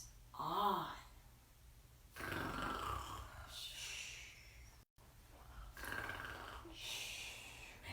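A voice imitates a bear snoring during a children's story reading, with two or three slow, breathy rasping inhales and exhales.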